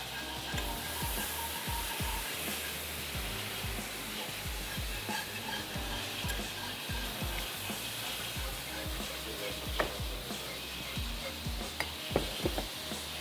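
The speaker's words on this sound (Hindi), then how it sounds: "और अब मैं इसमें ऐड करती जाती हूँ दूध" Milk stirred into a crepe cooking in a pan gives a continuous quiet sizzle with busy, rapid scraping and stirring strokes close by, plus a few sharper utensil clicks near the end.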